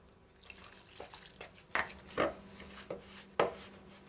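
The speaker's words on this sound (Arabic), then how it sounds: "وبعدين هنزل بالمواد السائله" Liquid ingredients go into a bowl of dry bread dough mix, making quiet splashing and a few soft dripping knocks spaced irregularly over a few seconds, close by, with no talking.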